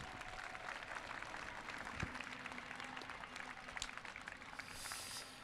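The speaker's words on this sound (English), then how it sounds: "Let's give them a big round of applause again for all their dedication." Audience applause at a robotics championship award ceremony, a steady, moderately distant wash of clapping that carries on evenly for several seconds.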